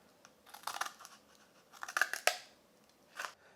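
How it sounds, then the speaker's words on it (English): Scissors cutting a slot into a piece of card for a simple sculpture, several short crisp snipping bursts in two clusters and a final snip, close and quiet with no talk. "Then all you need is to cut a slot in each piece of card about the same length."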